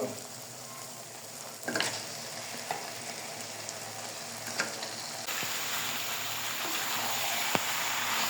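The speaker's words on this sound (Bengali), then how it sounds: "মশলা ভালো করে কষিয়ে নিয়েছি চিকেন দিয়ে দিব" Chicken frying with spices in a pan, a continuous sizzle with occasional scraping stirs and clinks, close and steady with no talk.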